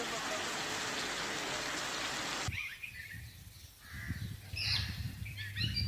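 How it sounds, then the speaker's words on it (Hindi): Heavy stormy rain in Sri Ganganagar, a loud dense hiss of downpour for a couple of seconds before cutting to quieter outdoor sound with crows cawing. "बीती रात आई तेज तूफानी बारिश की वजह से जहां खेत जलमग्न"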